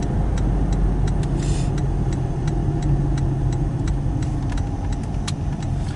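A car drives through a small town, its engine and road noise a steady close drone throughout, with faint regular ticking, likely a turn signal, clicking over it.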